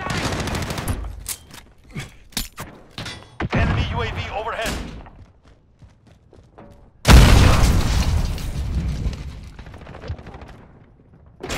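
Heavy booms from cruise missile strikes in Call of Duty Modern Warfare crash in, the biggest blast arriving loud and sudden midway, surrounded by scattered gunshots and a rumbling decay.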